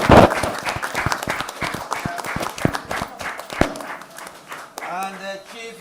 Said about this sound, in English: Please may we rise and applaud him.